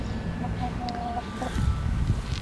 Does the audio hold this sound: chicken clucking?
yes